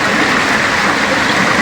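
Steady loud rain, a dense even wash of hiss with no break throughout, heard close and alone with no voices.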